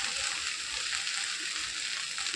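Okra frying in a pan, a steady, soft hiss of sizzling that stays even throughout the brief moment.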